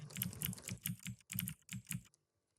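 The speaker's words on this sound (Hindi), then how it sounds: "तो यहाँ पे रैंडमली जो है वो हम यहाँ पे कुछ नंबर टाइप करते हैं" Numbers being typed on a computer keyboard while working in MS Excel, a close run of quick, uneven key clicks in short bursts with brief pauses, stopping near the end.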